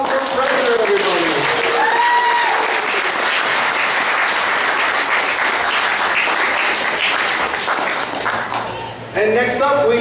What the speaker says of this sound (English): And one more round of applause for Fraser